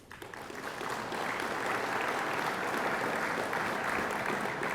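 Sustained audience applause at a general assembly meeting, a dense steady wash of many hands clapping that swells in during the first second and holds loud and even throughout, with no talk over it.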